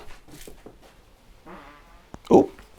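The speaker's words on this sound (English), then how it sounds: "Oh, permission to fart, sir." A short, low rasping fart near the end, following a few quiet bits of talk in a garage during work on a Suzuki Katana barn-find motorcycle.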